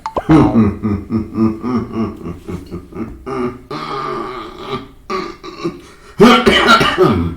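Several short, harsh coughs and throat-clearing bursts, close to the microphone, including a loud fit near the end.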